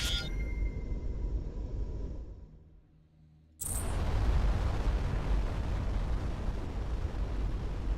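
A ship blows up in the space game Starcom: Unknown Space with a sudden loud blast after a brief hush, then a dense, roaring rumble that carries on steadily.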